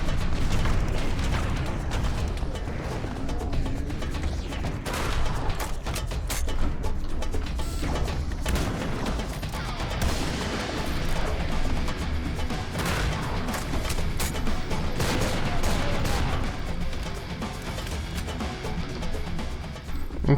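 Gameplay from Serious Sam 3: BFE erupts in loud, continuous combat: rocket launches and explosions blast one after another, with crashing impacts and rumbling booms packed together for about twenty seconds.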